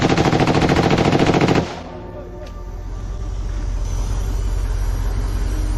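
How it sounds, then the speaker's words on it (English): Machine gun fire in a close-range ambush on Russian soldiers near Bakhmut, Ukraine: a loud, rapid continuous burst that cuts off abruptly, followed by a low rumbling aftermath. "Gunfire erupted like thunder."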